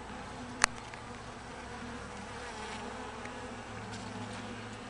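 Carniolan honeybees swarm around an opened backyard hive, a dense continuous buzz close by with one sharp click early on and no speech.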